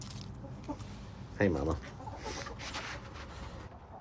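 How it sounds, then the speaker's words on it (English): Backyard chickens cluck softly in the background, with one louder, brief squawking call standing out near the middle, while a person speaks briefly close by. "Just a bunch of happy chickens."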